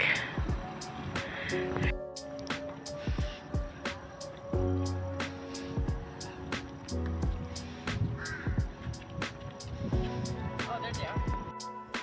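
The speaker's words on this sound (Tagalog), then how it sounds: "Daming uwak dito." Crows caw repeatedly in sharp bursts outdoors at Camp John Hay, Baguio City, several birds calling one after another over a background of people talking.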